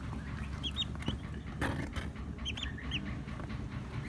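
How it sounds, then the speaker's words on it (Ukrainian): Newly hatched turkey chicks from an incubator peep in small clusters of high, repeated chirps over a steady background rumble, fairly close and moderately loud, with no voices. "вийшли ось такі хороші індичата"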